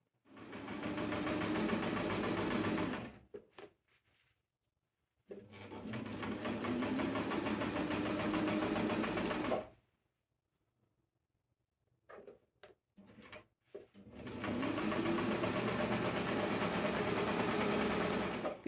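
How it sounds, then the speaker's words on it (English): Sewing machine stitching found fabric, running in three long steady bursts of rapid mechanical whirring, separated by short pauses and near-silence, close and fairly loud with no talk. "do a bit of sewing"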